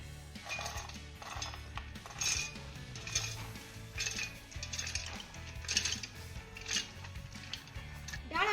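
Soaked lentils are drained and tipped into a mixer jar, making repeated clinks and clatters of a spoon against metal vessels, with soft wet sliding sounds in irregular bursts close by.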